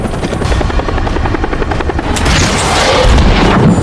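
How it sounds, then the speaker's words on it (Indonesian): A helicopter in a film thunders with loud, continuous rotor chop before an RPG strike sets off a heavy explosion that swells into a roaring blast near the end. "langsung menembakkan ke helikopter hingga hancur"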